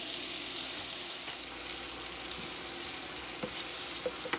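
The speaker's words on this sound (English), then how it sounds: "So I'm going to just cook the onion on medium-high heat" Chopped onion sizzles in a pan over medium-high heat with a continuous bright hiss, broken by a few soft ticks and pops as it cooks, close up and with no voices.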